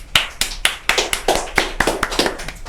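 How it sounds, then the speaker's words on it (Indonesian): A small group claps for fighter Kadafi at a fight-club ringside talk, a dozen or so sharp, close handclaps in a loose, uneven rhythm over a few seconds. "langsung aja beri tepuk tangan yang meriah untuk Kadafi"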